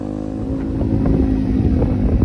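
A rented motorcycle rides through the Bromo area, its engine a loud, close, steady rumble mixed with wind buffeting, with no voices.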